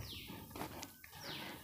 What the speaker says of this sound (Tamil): குருவிகள் கத்துகிற சவுண்டு